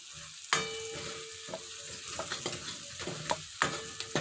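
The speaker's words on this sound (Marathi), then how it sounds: "आता यात मटण मसाला टाका आणि तो हे व्यवस्थित मिक्स करून घ्या" Whole masoor lentil masala with mutton masala and coriander sizzles steadily in a pan of oil, while a spatula stirs and scrapes against the metal in irregular sharp strokes. The cooking is close and alone, with no talk.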